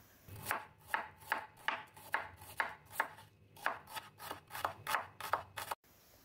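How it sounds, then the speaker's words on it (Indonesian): A knife slices shallots on a cutting board in a steady series of about fifteen crisp, evenly spaced chops, close and moderately quiet, with no talking. "Adapun bumbu yang diiris ada 5 siung bawang merah."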